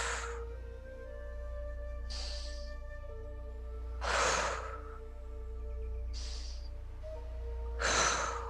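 Slow breathing during a guided exercise, five soft breaths in an alternating inhale and exhale rhythm, close and quiet over a low steady hum, two of them noticeably stronger.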